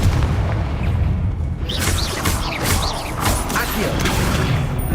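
A Confringo spell from Hogwarts Legacy bursts in a string of crackling, booming blasts with sharp magical zaps over a steady rumbling game backdrop, loud and close.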